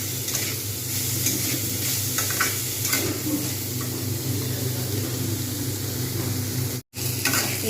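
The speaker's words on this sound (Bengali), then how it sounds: "এইবার আমি এর মধ্যে দিয়ে দেবো মসুর ডালগুলো, সব একসঙ্গে আমি কিন্তু ভাজবো।" Masoor dal tossed into a pan with already-fried ridge gourd and potato sizzles steadily, with occasional stirring scrapes over a constant hiss and a brief dropout near the end.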